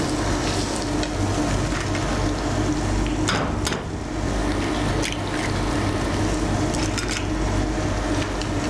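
Stuffing for a stuffed pancake, cooked like scrambled egg, sizzles and fries steadily in a pan, with close stirring and occasional scrapes throughout and no talking.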